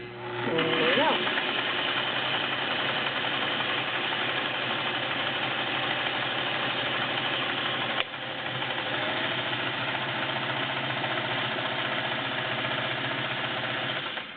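A Singer 401A Slant-O-Matic sewing machine runs steadily in zigzag stitch, its motor humming at an even, close whir for the whole stretch with a brief hitch midway.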